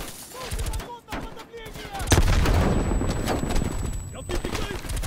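A grenade blast in Call of Duty Black Ops Cold War, a loud booming burst partway through that rolls into a rumbling tail amid scattered gunfire, with a voice talking before it.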